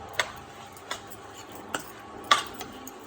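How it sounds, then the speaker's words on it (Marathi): A spatula scrapes and clinks against a pan in a few sharp, spaced strokes while cluster bean masala bhaji with coriander and coconut is stir-fried, close and fairly quiet over a faint background. "आमची ही भाजी व्यवस्थित परतायची"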